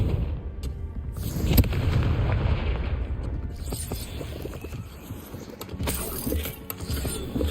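A Confringo blasting spell in Hogwarts Legacy bursts with a booming explosion and rumbling, crackling debris, followed by further mechanical clatter and thuds.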